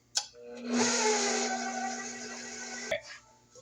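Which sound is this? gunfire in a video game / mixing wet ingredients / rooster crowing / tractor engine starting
mixing wet ingredients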